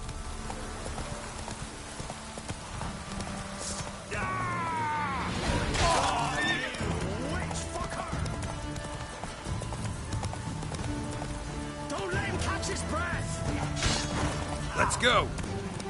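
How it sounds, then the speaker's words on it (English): Horse galloping in the video game Witcher 3, rapid rhythmic hoofbeats running throughout at close range, with spoken exclamations and game sounds over the top. "Run, Roach."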